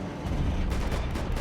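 Short burst of loud gunfire in Max Payne 3, shots cracking over a dense, rumbling shootout texture.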